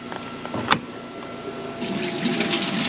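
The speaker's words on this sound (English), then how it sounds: "as you can hear it, the water is draining out" Water from an off-grid washing machine draining out into a bucket, a steady splashing trickle that swells louder toward the end, with a sharp clack early on.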